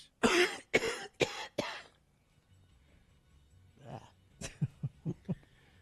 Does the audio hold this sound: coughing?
yes